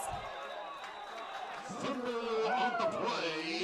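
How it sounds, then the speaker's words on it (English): Visiting fans roar at a high school football game, a dense, steady crowd din with cheering voices rising and swelling toward the end, loud and continuous. "So a lot of crowd noise now from the visitors."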